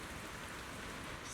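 Steady, soft rainfall hisses evenly in a scene from the video game Zenless Zone Zero, a continuous wash of rain with no voices.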